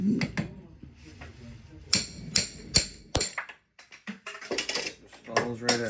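A hammer strikes a small transformer held in a worn vise to knock its copper windings loose, giving sharp, irregular metallic blows with short pauses between them.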